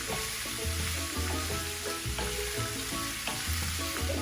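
Prawns, cooked Trinidad pepper-shrimp style, sizzle loudly in a hot pan while being stir fried, with a constant crackling hiss broken by repeated low scraping thumps of the stirring utensil.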